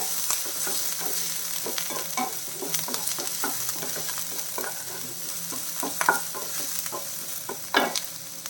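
Okra masala with ginger and curry leaves frying in a pan, with steady sizzling under repeated scraping strokes of a spoon stirring, close and moderately loud with no voices.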